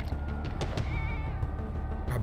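A cat meows a few times in the open-world game GTA V, with steady game ambience and background noise filling the short stretch.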